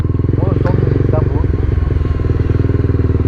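A Honda CBR 250 motorcycle engine idles and revs with a steady, close, rhythmic putter, loud throughout, while a voice speaks faintly over it.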